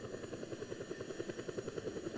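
Rapid rhythmic rotor chop from a helicopter in flight in Just Cause 2, close and steady throughout with no talk.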